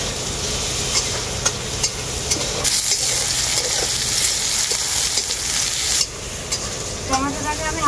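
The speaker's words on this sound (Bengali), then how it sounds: "টমেটোটাকে আমি হালকা করে পেঁয়াজের সাথে ভেজে নেব।" Chopped tomato with onion frying in a pan, a steady loud sizzle with occasional stirring scrapes, the hiss briefly surging and dropping, no talk.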